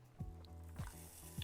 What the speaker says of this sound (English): you're gonna hear that sizzle. Listen to that sizzle.